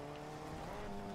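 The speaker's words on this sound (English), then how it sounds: "You launched the car? Wow." A car engine drones faintly and steadily in a video game, with a sustained tonal hum and no speech.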